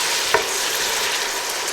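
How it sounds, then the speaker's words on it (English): A spinach and rice mixture sizzling loudly in a pot just after boiling water is added, with a steady bright hiss of frying and one short scrape of stirring near the start. "And keep stirring."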